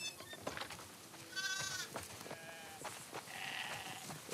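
Sheep on a farm in The Last of Us Part 2 bleat several times in short, overlapping calls at moderate distance over soft game ambience.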